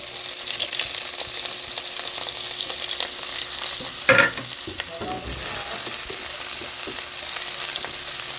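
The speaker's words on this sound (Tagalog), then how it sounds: "Gisa-gisa ng bawang. Next, onion," Garlic and onion sautéing in a pan for chopsuey, a steady close sizzle of frying with a brief louder clatter of stirring midway, no voices.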